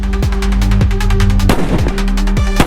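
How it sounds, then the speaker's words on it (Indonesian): Rapid gunshots fire in quick succession over a low throbbing drone, loud and punchy, with no speech. "David pun memilih untuk menembak mereka satu persatu"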